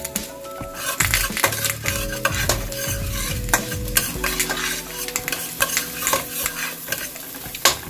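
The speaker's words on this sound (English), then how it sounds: "First, I saute my onion and garlic." Onion and garlic sautéing in a pan with a steady sizzle, under busy, close clatter and scraping of a utensil stirring against the pan, with no voices.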